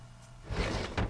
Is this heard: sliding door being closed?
yes